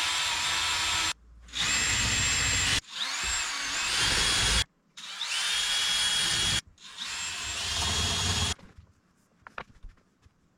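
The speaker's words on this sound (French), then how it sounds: "je vais mettre une rangée de prises une prise électrique" A power drill bores into a kitchen wall for an electrical outlet in four loud, close bursts of whirring separated by short pauses, then falls quiet.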